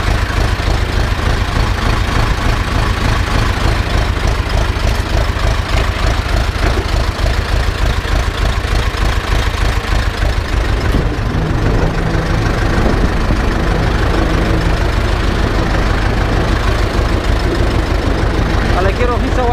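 An Ursus C-360 tractor engine idles with a loud, steady, rhythmic chugging throughout, while someone talks over it in Polish.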